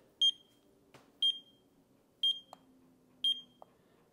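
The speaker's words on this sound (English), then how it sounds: "there's what the alarm sounds like" A digital meat thermometer's high electronic alarm beeps four times at an even pace, each short tone clear and close against a quiet background with faint clicks.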